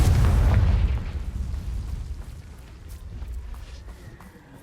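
A fiery Confringo spell blast in the Hogwarts Legacy video game: a loud, deep boom up front that rumbles and fades over a few seconds, with no speech.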